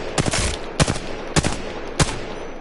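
Gunfire from weapons in the video game Apex Legends: four loud, evenly spaced shots crack out close up, each one sharp and punchy over a steady background hum, with no voices.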